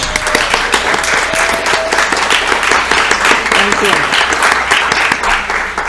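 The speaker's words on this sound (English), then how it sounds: "can you just please stand so we can acknowledge your contributions and give you a round of applause?" An audience at the NDS 2022 event breaks into sustained applause, a dense, steady wash of clapping that fills the room throughout, with a voice briefly speaking over it.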